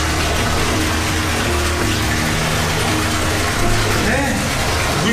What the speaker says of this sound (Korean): 네, 물소리 들리시죠?